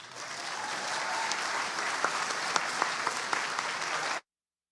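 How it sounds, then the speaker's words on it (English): An audience at a high school basketball awards ceremony gives steady, dense applause for the honoured players, with a few louder individual claps standing out before the sound cuts off abruptly. "You can clap for them."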